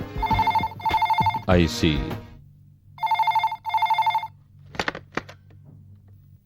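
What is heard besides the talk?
telephone ringing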